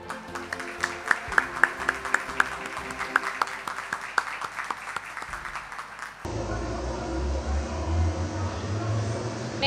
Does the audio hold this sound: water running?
no